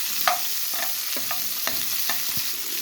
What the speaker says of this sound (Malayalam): ഒന്ന് മിക്സ് ചെയ്ത് കൊടുക്കുക.